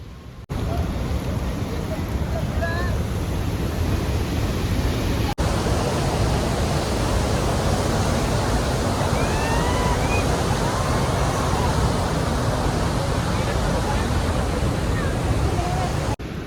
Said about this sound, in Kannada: ಅಲ್ಲಿಯ ನೀರು ಸೌಂಡು ಮತ್ತು ಅಲ್ಲೊಂದು ಹುಳದ್ದು ಸೌಂಡ್ ಬರುತ್ತೆ